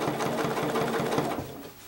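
A sewing machine runs steadily, its needle stitching in a fast even rhythm as it tacks quilt top, batting and backing together, then slows and fades near the end.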